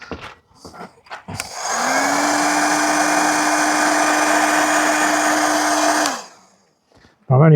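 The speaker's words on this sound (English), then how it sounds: "I'm only applying a tiny bit of heat because I don't want to lift the paintwork of the van." A heat gun warms old vinyl wrap on a Sprinter campervan roof, giving a steady, loud whirring blow that starts abruptly, holds for about four and a half seconds and then winds down, with no talk over it.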